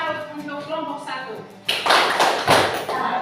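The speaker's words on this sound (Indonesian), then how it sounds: "Mari kita beri tepuk salut untuk kelompok 1." A classroom group gives a 'tepuk salut' cheer, several loud rhythmic bursts of clapping close by that follow a short stretch of someone speaking.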